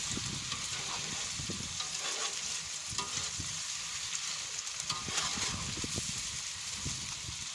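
A seafood paella mixture is stirred in a hot pan, with continuous frying sizzle and hiss broken by scraping and stirring strokes.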